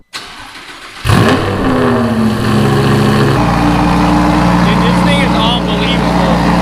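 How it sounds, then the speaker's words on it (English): A straight-piped Lamborghini Huracan cold-starts: after a brief hiss, the starter catches and the engine flares into a loud roar, dropping to a deep, raspy high idle that drones on close and loud. "let's give you guys a cold start."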